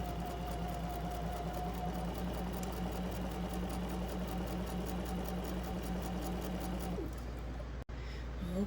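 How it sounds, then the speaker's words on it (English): Sewing machine running a long straight stitch along a pillowcase seam, a steady fine mechanical whir and rapid needle ticking that continues unbroken for several seconds, then stops abruptly with a sharp click. "I'm just going to be doing this straight stitch all down this side"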